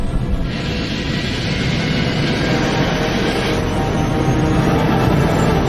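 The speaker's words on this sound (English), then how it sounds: "the pilots lift the plane off the ground." A passenger airliner's jet engines roar steadily during takeoff in thick fog, a loud, continuous broadband rumble that holds without a break from start to finish.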